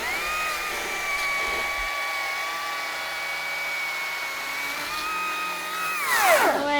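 A small power saw runs steadily with a sustained whine, then drops sharply in pitch near the end as it bogs down cutting into wood, close by and alone.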